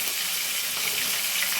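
Tomato frying in hot oil for a chana matar curry, giving a steady, even sizzle with a hiss throughout, close and moderately loud with no talking.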